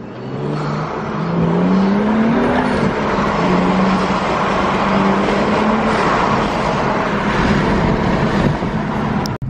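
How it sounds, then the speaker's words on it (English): A turbocharged BMW 435i engine roars steadily and loudly as it accelerates, a rising turbo whine sweeping up through the revs, with no voices over it. "we finally got that turbo sound"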